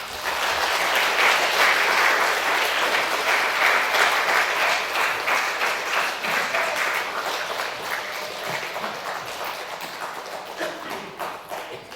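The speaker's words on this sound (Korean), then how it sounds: "이 시간 우리 원로 목사님 나오실 때 여러분 큰 박수로 환영해 주시기 바랍니다." A church congregation at a Sunday service applauds to welcome the pastor, a loud, dense burst of clapping that holds steady and then slowly fades away.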